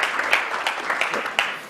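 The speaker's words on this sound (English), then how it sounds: "And I think they deserve a round of applause." Scattered applause from a conference audience thanking climate panelists, a sparse few clappers with distinct individual claps rather than a full roar, brief and moderately close.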